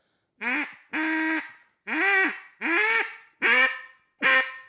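Six loud, drawn-out quacking blasts from a duck call, each held for a moment with a buzzy tone that rises and falls, separated by brief pauses.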